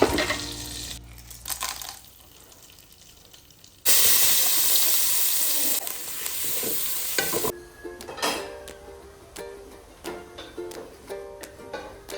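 Onions sautéing in butter cubes and a spoon of ghee in a pan, first quiet stirring, then a loud, bright sizzle as they hit the fat, easing into crackling frying with scraping stirs.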